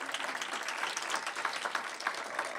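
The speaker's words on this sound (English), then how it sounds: "Give Leslie a big round of applause." An audience at a women's awards ceremony breaks into applause, a dense, steady round of clapping from many hands that carries on evenly throughout.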